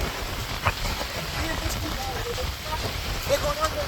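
Heavy rain pours at Kuakata beach by the sea, a steady broadband hiss of falling water with a few faint voices underneath.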